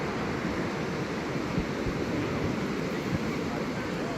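Ocean surf at the shore, a steady broadband wash of breaking waves with light wind noise, continuous and fairly near, no voices.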